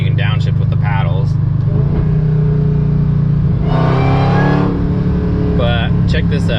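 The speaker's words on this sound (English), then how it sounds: "like you can downshift with the paddles." Hellcat-swapped Dodge Dakota pickup downshifting with paddle shifters, a steady low engine drone that rises into a sharp rev blip in the middle, with someone talking before and after.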